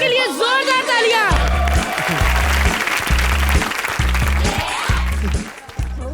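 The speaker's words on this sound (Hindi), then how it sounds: "एक बार अविनाश और संभावना के लिए जोरदार तालियां।" A television comedy show's studio audience breaks into loud applause for two guests. A voice speaks over it at first, then steady clapping plays under a pulsing low music beat.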